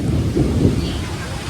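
Thunder rolls as a deep, loud rumble from dark storm clouds, with rain hissing steadily underneath during a brief, continuous stretch.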